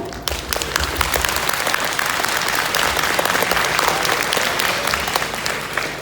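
An audience at a guest lecture on AI and IoT applauds Professor Michael Sheng, a dense, steady wash of many hands clapping that holds at an even level for the whole stretch.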